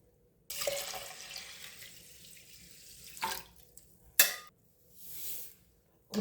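Water running into a pot while ven pongal is being cooked, a steady faucet-like pour lasting a few seconds, then short splashy bursts and a softer second pour.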